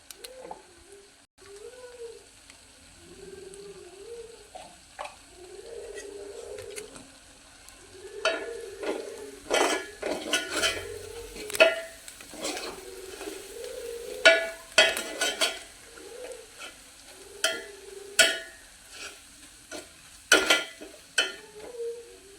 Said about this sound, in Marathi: एक मिनिटवर चांगलं परतून घेऊया